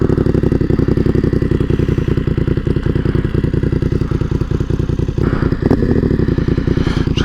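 A BMW F900R motorcycle with an aftermarket Dominator exhaust idles loudly up close, its rapid regular pulsing firing beat steady throughout with a slight rise near the end.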